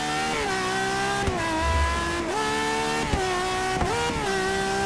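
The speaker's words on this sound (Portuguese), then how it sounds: "Estou brincando com o câmbio." A Ferrari FXX K in Forza Motorsport 6 revs hard and loud, its engine note climbing steadily and then dipping sharply at each of about four gear shifts, in a repeating rise-and-drop pattern with no talking.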